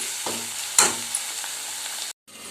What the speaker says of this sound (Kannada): ಸೊಪ್ಪನ್ನು ನಾವು ಒಗ್ಗರಣೆಯಲ್ಲಿ ಸ್ವಲ್ಪ ಏನು ಮಾಡಬೇಕು, ಇದನ್ನು ಬಾಡಿಸ್ಕೋಬೇಕು.